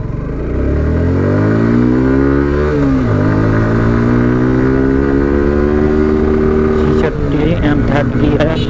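A carbureted Suzuki Gixxer motorcycle accelerates hard through its gears, its engine note climbing loud and close, dropping at each upshift near three and seven seconds, then rising again.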